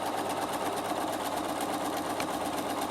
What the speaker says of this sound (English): I'm going to put it on the longest stitch length possible, and I'm just going to run my foot along the edge